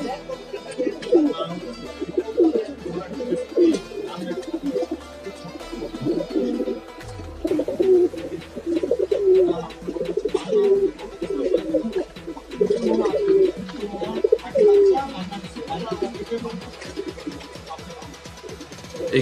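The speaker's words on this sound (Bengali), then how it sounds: "এখানে যে কবুতরগুলো দেখতেছেন সবই খুলনার" Old-generation Khulna pigeons coo in a breeding loft with a soft, rolling, continuous murmur, while someone talks over them throughout.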